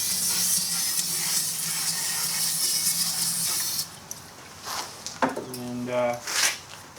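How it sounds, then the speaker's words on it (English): Brake cleaner sprayed into the gas tank of an old lawn mower left outside for years: a steady loud hiss runs for about four seconds, then stops, followed by scattered clinks and handling noises close by. "So, I'm going to try to just blow some brake cleaner in there first."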